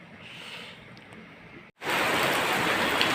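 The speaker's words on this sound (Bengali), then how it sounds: "বৃষ্টির মধ্যে আটকা পড়ে পয়সা আছে" Steady rain falls in a broad hiss, faint at first and then suddenly much louder and closer after a short break, pouring continuously with no talk.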